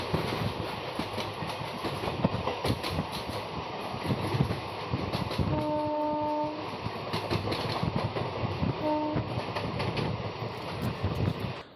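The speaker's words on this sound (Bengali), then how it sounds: "আমাদের ট্রেন এখন রামপুরহাট থেকে ছাড়লো।" Gour Express passenger train pulling out of Rampurhat station, a steady rolling rumble of the carriages with wind noise throughout and a brief two-tone horn blast heard twice, from inside the moving train.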